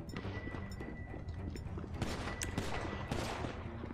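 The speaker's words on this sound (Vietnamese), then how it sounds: "Còn cầm cái súng lục gỗ mà bắn nè." Pistol gunfire in the GTA Online video game, a dense run of loud shots over continuous game noise, with no talking.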